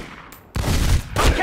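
Video game gunfire, two loud close bursts of rapid shots after a brief quieter lead-in, with no talking.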